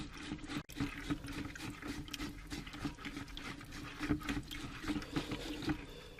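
Water poured through a strainer to rinse a soil sample full of sand and organic matter, giving a soft continuous splashing and trickling patter throughout at low level.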